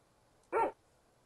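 A dog in the Rusty Lake Roots game gives a single short, clear bark against a near-silent background.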